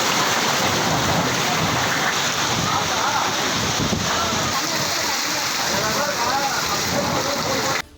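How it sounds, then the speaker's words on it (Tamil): Heavy rain pours down in a steady, dense, broadband hiss that stays loud and unbroken for the whole stretch before cutting off abruptly at the end. "மாவட்டங்களில் காலை முதலே மழை பெய்தது"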